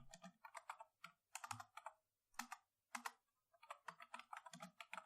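Computer keyboard keys typed in quick bursts with short pauses between runs, clicks close and clear with no talking.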